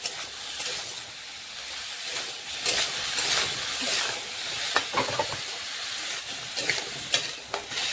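Spices with salt and turmeric fry in hot oil in a pan, a steady sizzle broken by scraping stirs and sharp clinks, close and fairly quiet, with no talking.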